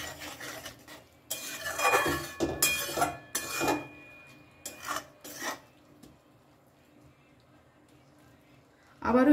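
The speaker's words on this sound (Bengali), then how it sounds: "ভালো করে একটু মিশিয়ে নেব।" A spoon scrapes and clinks against a pan as poppy seed paste is stirred into ridge gourd, giving several bursts of rasping strokes that fade into near quiet and then return at the end.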